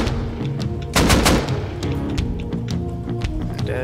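Automatic gunfire in a video game set on an oil rig, a loud burst of rapid shots around the one-second mark followed by scattered shots and game noise, with no talking.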